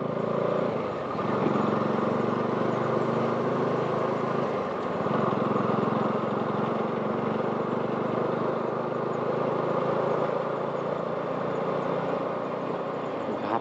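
A motorcycle engine runs steadily at the Krishnanagar–Baharampur toll plaza on NH 34, a continuous close drone with a few slight shifts in pitch, heard alone.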